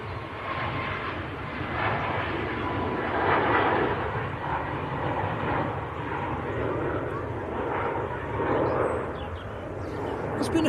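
A Boeing 737-800 takes off at Manchester Airport, a broad loud engine roar swelling and lingering, with people talking over it.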